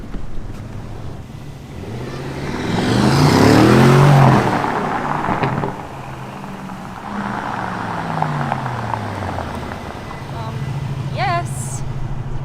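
Aston Martin's first SUV pulls away hard, its engine note swelling and climbing in pitch before settling into a steady cruise, heard from inside the cabin amid wind rush and road noise.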